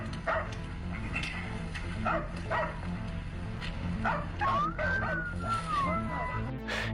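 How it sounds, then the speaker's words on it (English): Hunting dogs bark and yip in a wooded area, the barks coming in irregular bursts over a steady low background hum, with a rising whine-like tone partway through; no voices clearly heard. "their dogs started barking aggressively at something near the wooded area"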